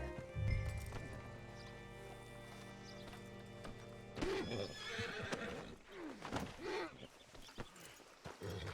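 A horse in Red Dead Redemption 2 whinnies loudly up close, followed by hooves clopping and shuffling with muffled background voices.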